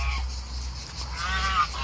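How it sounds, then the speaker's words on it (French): Guinea geese honk nearby in a farmyard waterfowl pen, a few nasal calls rising over a steady low background rumble. "il y a le trio d'oies de Guinée"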